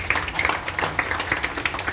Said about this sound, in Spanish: Démosle un aplauso a Nestalí